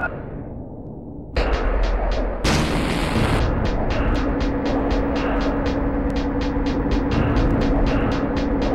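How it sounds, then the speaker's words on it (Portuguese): Heavy booming plasma cannon blasts fire in a rapid, steady stream over a dense rumbling roar, punctuated by sharp pulses in a loud battle in the game Alone In The Dark: The New Nightmare. "Canhão de plasma"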